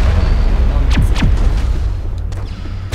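Several sharp gunshots in the video game Mass Effect crack out in quick succession over a dense, rumbling battle din.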